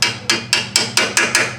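Pliers used as a hammer tap a rear brake part into place on a 2005 Chevrolet Suburban 1500 4x4. Seven sharp metallic knocks land close by in an even rhythm, about five per second.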